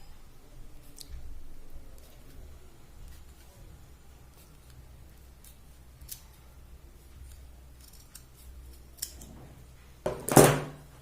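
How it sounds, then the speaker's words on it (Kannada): Scissors cutting the stitched part of an old blouse, soft snips and clicks scattered over a quiet background, ending in a louder burst of handling noise. "ಈ ಸ್ಟಿಚ್ ಮಾಡಿರೋ ಪಾರ್ಟನ್ನು ಕಟ್ ಮಾಡಿ ತೆಗೆದುಬಿಡಿ"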